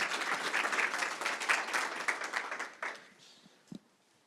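An audience at a business presentation gives a short round of applause that fades out after about three seconds, leaving near silence and a couple of soft thumps.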